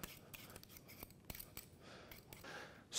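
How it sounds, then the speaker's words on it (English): Sweet potatoes being peeled, a run of short scraping strokes close by at a quick, uneven pace, with a brief louder rustle at the very end and no talking. "we got some delicious sweet potatoes. We're going to go ahead and peel these bad boys."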